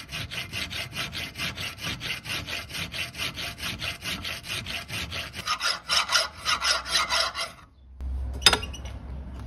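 A hand file rasps back and forth across a metal door stop piece for a Ducato sliding door, in steady, even strokes that speed up before stopping, followed by a single sharp clink.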